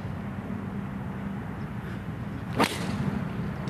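A golf driver strikes the ball hard on a practice range, one sharp, loud crack near the middle over steady outdoor background noise.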